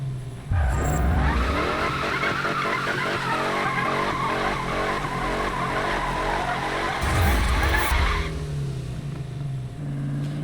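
Car drifting and skidding in Need for Speed 2015, a loud revving engine under a long sustained tire squeal, close and continuous, with a second skid burst near the end.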